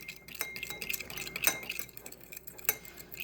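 Spoon clinking against a bowl while mixing soy sauce, brown sugar and sriracha into a noodle sauce, a quick series of light metallic taps and scrapes, fairly quiet and close.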